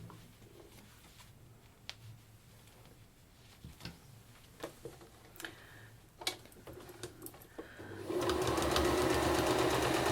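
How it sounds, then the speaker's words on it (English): Sewing machine top stitching a patchwork quilt seam, a quiet whirring stitch run with light ticking and clicks, growing into a steady louder buzz of continuous stitching near the end. "Top stitch this seam here."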